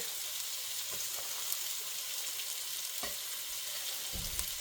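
Onion hits a hot pan for burgers with a constant bright, hissing sizzle, close and steady, broken by a few soft stirring scrapes, with no voices.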